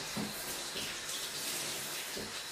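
Water splashes and runs as a cat is bathed in a video game: a continuous moderate hiss of flowing water with a few soft splashes, and no talking.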